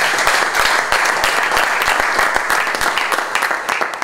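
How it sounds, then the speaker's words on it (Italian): Dense, continuous audience applause at the Futsal Montegranaro 2015/16 team presentation, a loud, sustained wash of many hands clapping together that lasts throughout. "intanto l'allenatore Andrea Vita, un applauso."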